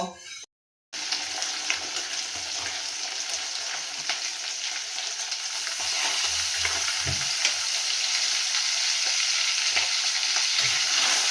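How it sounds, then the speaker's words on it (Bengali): Marinated pabda fish fries in hot oil in a wok, giving a steady, close, unbroken sizzle with light crackling throughout and no talk. "মাছগুলোকে আমি তেলের মধ্যে দিয়ে দিলাম। এবারে আমি ভালো করে মাছগুলোকে তেলের সাথে একটু ভেজে নেব"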